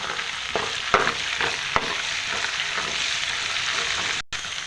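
Spices with a little turmeric fry in a pan for mutton biryani, making a steady, close sizzle broken by a few stirring clicks and a brief dropout near the end.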